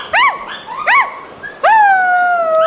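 A pet dog gives two short rising-and-falling whimpers and then a long, sustained howl that holds its pitch. The sound is close and loud, with nothing else heard.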